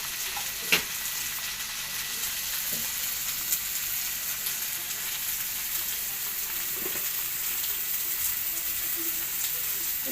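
A Bengali spice paste with turmeric and cumin powder fries in a pan for a taro leaf dish, giving a steady, close hiss of sizzling with a few faint scrapes and clicks of stirring.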